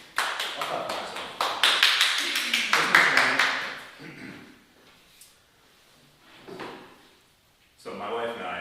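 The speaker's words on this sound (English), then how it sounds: "I'll clap for myself." A man on stage at a talk claps for himself: a quick run of sharp, evenly spaced hand claps, loud and close, which fades into quieter movement and a few softer knocks.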